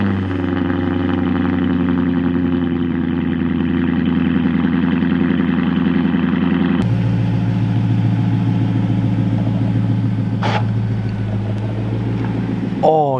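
A Lexus LS 430 engine on a cold start, a loud, steady low rumble that changes abruptly partway through to a rougher, busier idle, and keeps running nearby.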